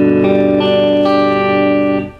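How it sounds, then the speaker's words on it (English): A guitar chord strummed across all strings with a plectrum rings out once, bright and sustained, then fades, heard close and alone. "you're going to use the plectrum to strum all the strings"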